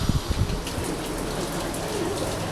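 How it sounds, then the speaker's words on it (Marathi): Evening rain falling outside, a steady, dense hiss of downpour heard continuously, moderately loud, with a few heavier knocks at the start. "बाहेर मस्त असा पाऊस लागतोय"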